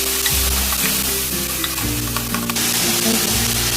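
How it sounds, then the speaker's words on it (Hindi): Chilies and tomatoes fry in a hot pan with a loud, continuous sizzle and crackle, with stirring and scraping close by and no talk over it. "इसमें मिर्ची फ्राई करेगा जी।"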